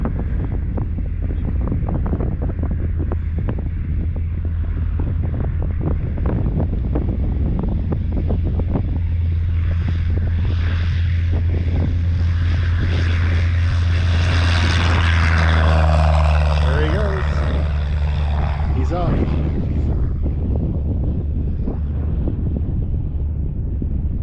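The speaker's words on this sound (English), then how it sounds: "So we'll watch him take off, get him down there, turn around and take off." A small propeller plane takes off from a rural Illinois airfield, its engine a loud continuous drone heavily buffeted by wind noise that swells to a peak as it passes close, then fades slightly.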